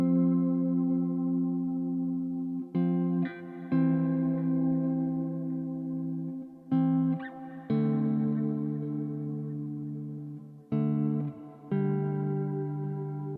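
Electric guitar chords in a lo-fi beat ring out in a high register with effects and reverb, matching piano chords and changing every second or two in a slow, layered pattern.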